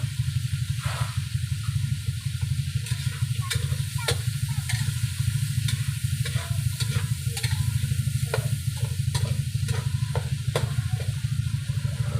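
Bagoong is stirred and shaken in a frying pan, giving a steady close sizzle with repeated scraping strokes of the spoon and pan throughout, without speech.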